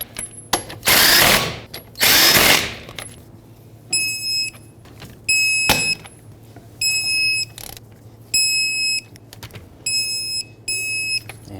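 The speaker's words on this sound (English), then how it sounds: "Put back all 5 of your lug nuts, bottom them out, and then torque them to 76 foot-pounds." Wheel lug nuts on a 2003-2008 Toyota Corolla are run down with a power tool in two loud whirring bursts, followed by repeated electronic beeps in short, evenly spaced groups.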